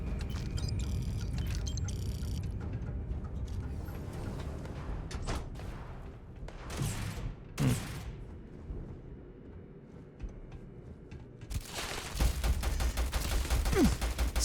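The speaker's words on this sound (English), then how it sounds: "Stop shooting the doorway and shoot the persons instead." Gunfire in Starfield comes as bursts of sharp shots and rapid automatic fire, loud close volleys separated by quieter gaps, with a heavy sustained barrage near the end.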